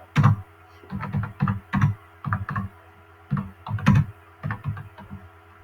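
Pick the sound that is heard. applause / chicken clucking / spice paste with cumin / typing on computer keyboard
typing on computer keyboard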